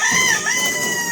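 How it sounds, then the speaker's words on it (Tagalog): Native chickens on a mountain farm crow and cluck close by, a rooster's call ringing loud and steady over a second of busy fowl chatter. "Marami pong mga alaga dito, mga manok na native."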